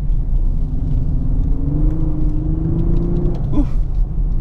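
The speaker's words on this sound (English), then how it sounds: "so I'll shift down into, let's say, third gear into this corner" A 2018 Lexus LS500 downshifts into third gear as it enters a corner. A steady engine rumble carries a slowly rising tone, then a brief revving blip sounds near the end.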